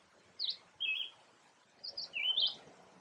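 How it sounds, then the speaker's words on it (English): Birds in a forest near a creek chirp a few short, faint high calls, distant and sparse over a quiet outdoor hiss. "Can you hear the birds singing?"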